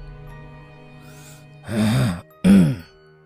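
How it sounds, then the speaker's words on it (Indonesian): Two heavy, strained exhalations follow a quiet stretch, each a rough breathy groan with a hoarse edge, close and fairly loud over faint background hum. "Tiba-tiba ada suara batuk dan nafas yang begitu berat."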